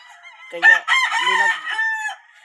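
A rooster crows nearby, a loud drawn-out call rising and falling over a couple of seconds.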